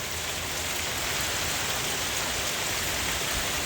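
Heavy rain pours steadily during a spring storm in Cleveland, a dense, even hiss of drops close by, with no voices.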